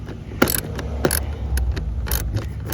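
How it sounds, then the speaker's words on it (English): A ratchet tightens the bolts on a replacement AC blower motor in a 2007 Toyota Avalon, giving loud, close clicking bursts in several quick runs with short pauses between them. "I'm just tightening up all the bolts that I hand tightened"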